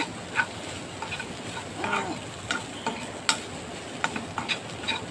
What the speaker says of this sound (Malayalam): മീൻകറി വെക്കാനുള്ള തേങ്ങ വറുത്തുകൊണ്ടിരിക്കുകയാണ്